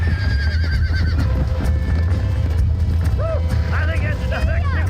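A horse in Red Dead Redemption whinnies several times in the second half over a low steady rumble of in-game ambience, with a person talking over the scene.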